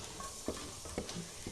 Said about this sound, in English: I'm gonna go ahead and put my garlic in the pan to get it to where it's cooking